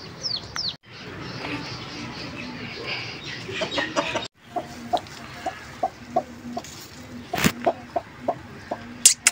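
A hen clucks in short, evenly spaced calls, close and fairly loud, over a steady background murmur, with a few brief gaps and sharper bird notes near the end.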